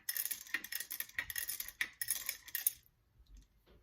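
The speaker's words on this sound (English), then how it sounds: "And then I'll just give it a good stir with my cowrie shells that were on her altar" Cowrie shells stirred through a spiritual bath mixture in a bowl, a rapid run of bright clinking and rattling for almost three seconds, then near silence with a faint shuffle.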